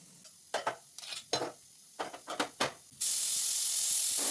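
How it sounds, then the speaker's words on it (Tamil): A pressure cooker on the stove rattles in a few quick metallic jiggles, then bursts into a steady, loud hiss of escaping steam that keeps going to the end. "ஸோ இப்போ வந்து 4 விசில் வந்துருச்சு."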